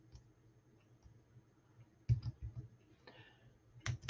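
Scattered quiet keystrokes on a computer keyboard, then a few short bursts of louder clicking near the end, sounding close and sparse, with no speech.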